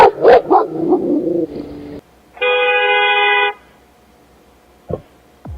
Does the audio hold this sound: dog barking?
yes